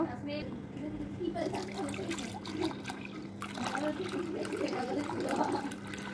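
Water poured and trickling while scrubbing an old stained item clean, a steady splashing flow throughout with voices murmuring in the background.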